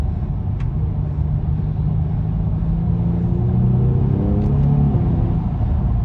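A Genesis G70 fitted with BMS air intakes rumbles steadily, then its engine note climbs in pitch as it revs or accelerates before easing back, heard close and loud with no talk.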